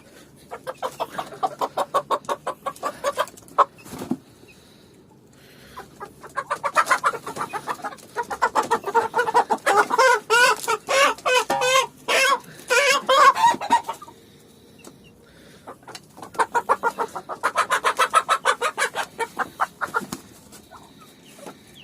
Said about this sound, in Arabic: طبعا الفراخ هتتجنن دي.